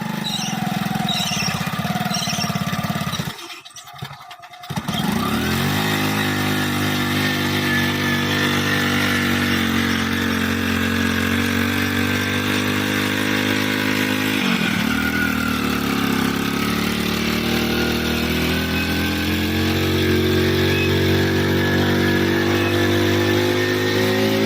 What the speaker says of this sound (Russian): Запуск огромного старинного одноцилиндрового двигателя с помощью пускача, сделанного из мотоцикла.